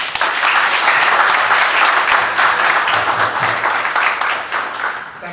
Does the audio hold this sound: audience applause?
yes